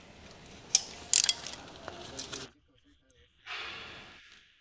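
A quick release flex head long handle ratchet wrench loosens a fastener in bolt removal mode, giving a few sharp clicking bursts early on, then a short rasping ratchet run after a pause, close and fairly quiet.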